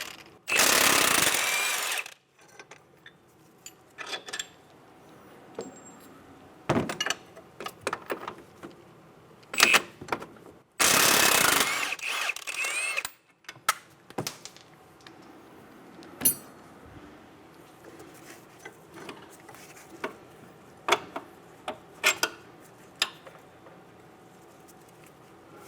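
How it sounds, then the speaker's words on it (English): A 21mm socket on a power tool and a wrench work loose strut bolts and nuts on a 2007-2012 Nissan Altima, two loud bursts of rapid impact rattling separated by scattered metallic clicks and clanks. "Using a 21mm socket and wrench, we're going to remove the 2 strut bolts"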